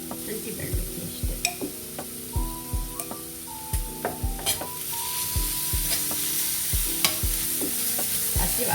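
Ginger garlic paste frying with onions in a pan for a chicken gravy hisses in a loud, continuous sizzle, broken by repeated rhythmic scrapes and taps of a spoon stirring against the pan, heard close with no talk.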